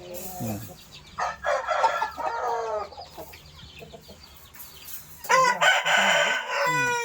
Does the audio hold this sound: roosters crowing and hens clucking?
yes